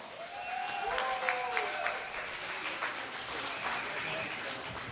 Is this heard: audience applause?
yes